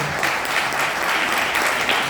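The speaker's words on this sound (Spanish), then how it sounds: "Denle un aplauso al Señor" A church congregation applauding, a thick steady roar of many hands clapping together, loud and sustained with faint sharper claps rising from it.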